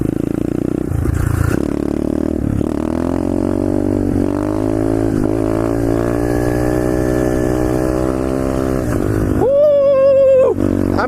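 A small pit bike engine revs hard during wheelie practice, its loud, steady drone rising and falling in pitch before climbing to a sharp, high-pitched scream near the end.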